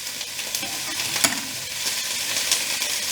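Food is stirred in a frying pan with a soft continuous sizzle under gentle scraping strokes and an occasional light clink of the utensil, close and fairly quiet.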